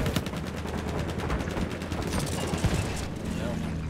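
A fighter plane's machine guns fire in Battlefield 1, a fast continuous rattle of automatic shots in close rapid bursts over battle rumble, loud and sustained for several seconds.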